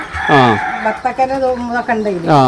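Native hens cluck and call at close range on a home poultry setup, several loud, tonal rising squawks in quick succession filling the short moment.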